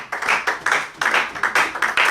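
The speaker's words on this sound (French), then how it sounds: "On acclame d'abord pour la parole de Dieu." Rhythmic clapping from a church congregation at a Sunday worship service, a close, loud series of sharp hand claps in a quick, steady beat, with no talking over it.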